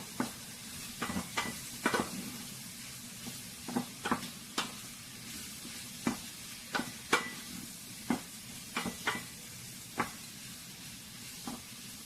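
Vegetables with mint and peach sautéing in a little olive oil, a steady soft sizzle with repeated sharp stirring clicks of a utensil against the pan at an irregular rhythm, close by, no talk.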